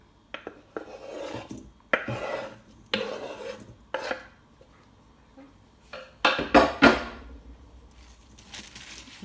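Salad ingredients tossed together in a bowl, making close rasping, rubbing scrapes in uneven bursts, with a louder cluster of crunchy strokes near the end.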